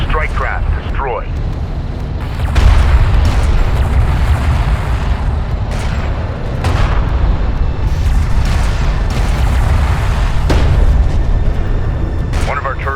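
A strike craft blows up in the video game Homeworld: Deserts of Kharak, a deep, rumbling boom that swells from about two and a half seconds and rolls on under steady battle noise, with sharp crackling bursts.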